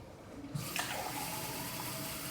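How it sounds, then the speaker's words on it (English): Cold water poured into a jar for Rit dyeing: a close, steady splashing pour that starts after half a second and keeps running without a break. No one speaks. "the cold water, pour it in"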